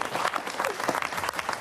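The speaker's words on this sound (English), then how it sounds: "Round of applause, Frank Sabottom there." A club audience at a social event applauds the comedy performer Frank Sidebottom, a dense, lively burst of many hands clapping close and loud throughout, with no talk over it.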